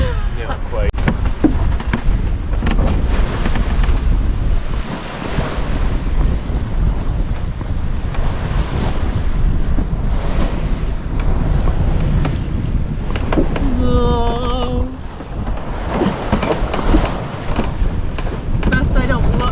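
Rough sea on a sailboat: loud, gusting wind buffets the microphone over the constant rush of waves against the hull, with people talking now and then and a brief whistling tone partway through.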